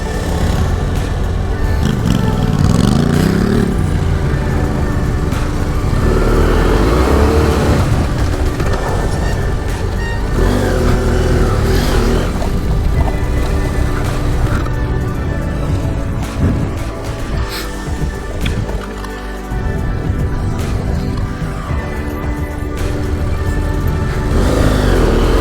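A BMW GS motorcycle runs through an off-road braking exercise, its engine droning and revving up and down close by in a continuous rumble, with rough surging throttle changes throughout.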